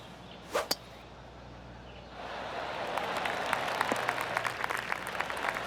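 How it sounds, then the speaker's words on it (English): Golf gallery applause in PGA TOUR 2K25 swells after two sharp early taps, then builds into a broad, steady patter of many hands clapping around the course, moderately loud and sustained to the end. "I can hear the golf claps around the course"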